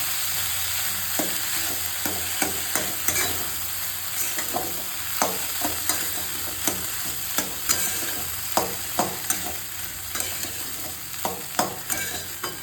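Ghugrya, boiled whole grains, being sautéed with spices in a pan: a soft continuous sizzle with regular scraping and tapping of a spoon stirring throughout, fairly quiet and close.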